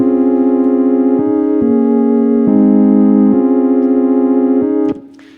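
Analog Lab 5 synthesizer on a home organ preset plays a slow sequence of sustained, full chords, loud and steady with a reedy organ tone, changing about once a second before cutting off near the end; nobody talks.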